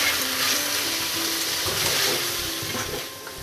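Rice stirred and fried in a pan for an Indian vegetarian fried rice, giving a steady, close sizzle with scraping stir strokes throughout, easing slightly toward the end, with no talking.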